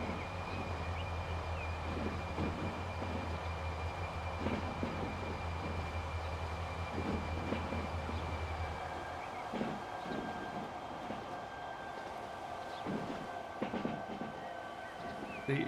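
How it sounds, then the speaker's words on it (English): Trains rolling along rails in the railway simulation Transport Fever, a steady low rumble with faint clatter, loud and continuous at first and then lighter, with no talk over it. "I think I can see a train coming up through."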